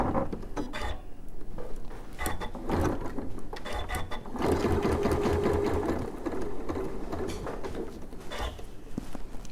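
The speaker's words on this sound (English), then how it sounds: "Glue side facing up, right side facing down, stitch all the way around, and reverse stitch at the start and at the end." A sewing machine stitches all the way around a glued fabric semicircle, its steady mechanical whirr running in short bursts with brief pauses, close and fairly loud, with no talking.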